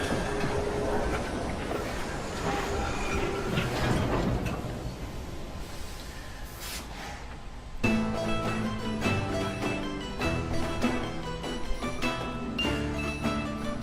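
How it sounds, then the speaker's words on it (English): Train rolling along rails in Assassin's Creed Syndicate, a steady clattering rumble with rhythmic ticks, joined by music and louder mechanical clatter in the second half. "At least we have a train now."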